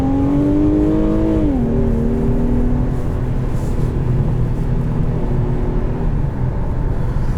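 A 2022 Infiniti Q50 Luxe accelerating hard, its engine note climbing and then settling into a steady, loud drone with strong rumble inside the cabin, continuous throughout with no talking.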